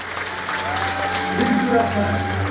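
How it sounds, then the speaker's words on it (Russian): Audience applause at the opening ceremony of a film festival, continuous clapping in a large hall under a sustained low hum, with faint music or voices threaded through. "Валентина, аплодисменты вам!"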